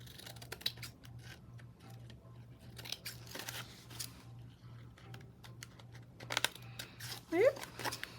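Scissors snip around a paper craft tag in short, close, crisp cuts that come in irregular bursts over a quiet background hum.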